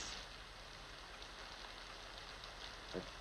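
Steady rain hissing on a surface, an even wash of noise throughout with a brief patter near the end.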